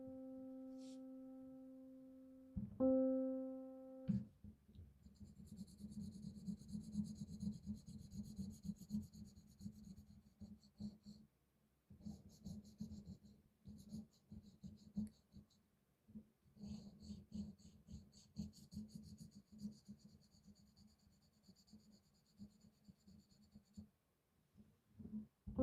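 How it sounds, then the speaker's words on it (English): A pen scratches across paper in quick, close strokes and scribbles for about twenty seconds, faint and uneven, after a brief steady tone at the start. "Let's hear it while we're drawing here."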